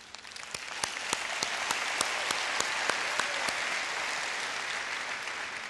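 Sustained applause from a large school-district convocation audience filling the hall, dense and steady throughout with a few sharper individual claps standing out, no voices on top.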